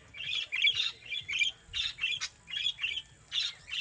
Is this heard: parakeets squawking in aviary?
yes